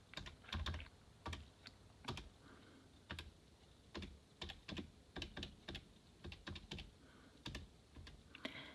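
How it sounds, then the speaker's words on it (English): Rapid clusters of small plastic key presses tapped out on a calculator while numbers are entered, quiet and close, with uneven bursts and short pauses between. "let's type this in the calculator and see what we get"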